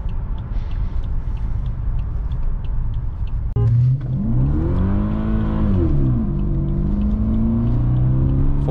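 A BMW 745i E65 V8 engine revs up hard, its pitch climbing and swelling into a loud, throaty acceleration close by, after a steady idling rumble, at night on a highway.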